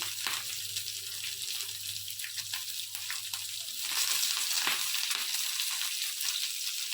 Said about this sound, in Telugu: తాలింపు సరుకులు వేగిన తర్వాత ఉల్లిపాయ, పచ్చిమిరపకాయ వేసుకుందాం.